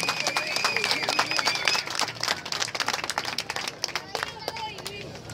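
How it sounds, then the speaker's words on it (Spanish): Applause for four junior finalists at the Gran Canaria Santa Pro surf event: a crowd clapping in a dense, sustained burst that slowly thins out, with cheers and voices mixed in. "que se escuche de verdad un fuerte aplauso a las cuatro finalistas"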